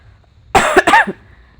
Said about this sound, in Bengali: এত কাশি হচ্ছে বারবার